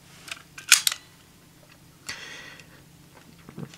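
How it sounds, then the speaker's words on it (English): Small plastic clicks and a sharp snap come from the unlocking switch being pushed back on a DX Kamen Rider Lock Seed toy, followed by a softer click, close and quiet with no talking. "This one has the unlocking switch where you push it back,"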